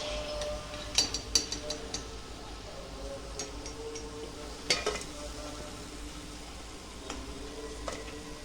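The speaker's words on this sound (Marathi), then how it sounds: "आपण हे पण भजे तळून घेऊ" Spinach bhaji fritters deep frying in hot oil give a low, steady sizzle, with a few sharp clinks of utensils against the pan rising over the hiss now and then.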